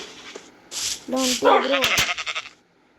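A goat bleats in a farmyard with cattle nearby, giving a few wavering, fairly close calls in quick succession that fade into quiet at the end.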